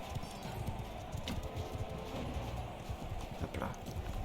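Horse hooves clip-clopping in a knight tournament video game, a steady near rhythm of hoofbeats running throughout over a busy game soundscape.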